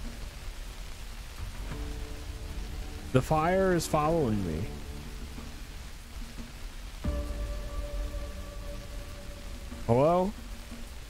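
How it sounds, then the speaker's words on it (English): Steady rain falls in the video game The Divine Invasion, a constant soft hiss running through the whole stretch while someone talks over it in short bursts. "It is literally raining."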